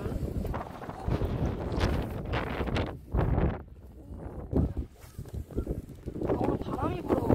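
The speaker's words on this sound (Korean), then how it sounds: "오늘 바람이 불어가지고." Gusty wind buffets the microphone at a hairtail fishing spot on the coast, roaring and easing in uneven bursts while people talk.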